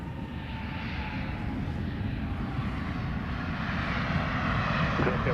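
An airplane lands at Dallas Love Field, its engine roar loud and steady throughout with a broad rumbling wash of noise as it rolls past nearby.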